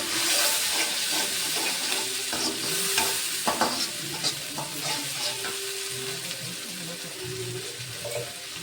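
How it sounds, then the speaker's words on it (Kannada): Ground masala frying in a pan for a North Karnataka brinjal dish, a dense steady sizzle with stirring scrapes and some watery sputtering, with brief short sounds mixed in. "ಈಗ ಈ ಮಸಾಲೆ ಹಸಿ ವಾಸನೆ ಹೋಗೋರು ಚೆಂದಾಗಿ ಇದ್ರೊಳಗೆ ಫ್ರೈ ಮಾಡೋಣ"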